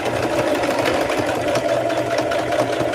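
Close and steady, a sewing machine runs continuously with an even mechanical hum and rapid needle rhythm throughout, with no voices over it.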